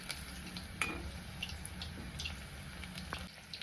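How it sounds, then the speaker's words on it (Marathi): A soft, steady sizzle of cauliflower pieces frying in oil over a low flame, faint and continuous, with occasional light clicks and stirring sounds. "तर गॅस कमी गॅसवर मी छान असं तळून घेतले बघा"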